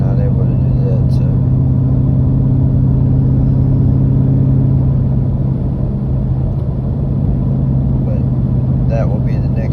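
A Jeep Grand Cherokee 5.7 with a Cherry Bomb exhaust drones at a steady low pitch, loud and close throughout, with the tone easing slightly partway through.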